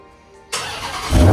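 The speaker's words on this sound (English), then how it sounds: "Cold start." A Dodge Demon 170 engine cold starts: near-silence gives way to a sudden loud crank and catch at about half a second, then a steady roar that swells louder as the idle rises toward the end.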